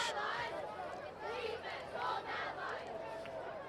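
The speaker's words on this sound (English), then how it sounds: "There's a pretty good crowd over there." A crowd at a high school football game between Paraclete and St. Francis, a broad wash of cheering and murmuring babble with swelling shouts, heard at a distance.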